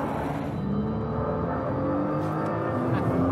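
Japanese sports car driving at speed, steady engine drone with rising and falling harmonics throughout, continuous and fairly close, no talk.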